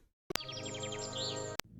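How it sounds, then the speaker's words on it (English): Chirping birds twitter in the 1992 video game Alone in the Dark, a steady run of bright, repeated tweets layered over sustained, dramatic game music, loud and close, framed by two sharp clicks at start and end. "Listen to all the birds twittering."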